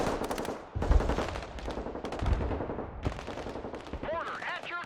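Rapid machine-gun bursts and heavy artillery thuds crackle through a battle in the video game Broken Arrow, dense and loud, with a voice talking over the firing and a warbling whine near the end.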